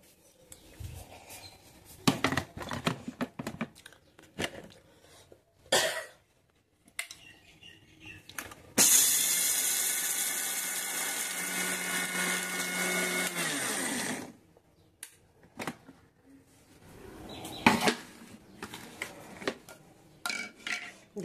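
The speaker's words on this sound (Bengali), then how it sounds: "এবারে প্রথমে আমি এটাকে আগে বেটে নেব মিক্সিতে।" A mixer grinder whirs loudly and steadily for about five seconds as it grinds shelled peanuts for peanut butter, with handling clatter and knocks of the jar before and after.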